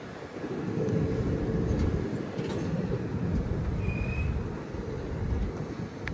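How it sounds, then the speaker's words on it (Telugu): A train pulls out of Cherlapalli railway station with a steady low rumble of wheels on rails, faint high squeals and clicks over the top, continuous and moderately loud throughout. "తెర్లపల్లి నుంచి కూడా మన ట్రైన్ స్టార్ట్ అయింది"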